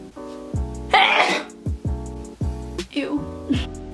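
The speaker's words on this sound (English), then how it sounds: "I'm gonna sneeze." A sudden, forceful sneeze bursts out once, close up, between stretches of voiced, hummed or spoken sounds.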